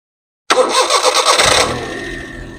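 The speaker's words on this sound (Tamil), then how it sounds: "வண்டி இன்ஜின் கண்டிஷன் எப்படி இருக்குன்னு சவுண்டு பாருங்க" Maruti 800 petrol car engine cranks after a moment of silence, catches with a loud burst, then settles into a quieter, even idle nearby.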